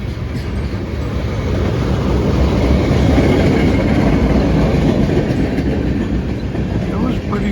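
A long cargo train rolls past close by, its wheels and wagons making a steady, loud rumbling clatter throughout.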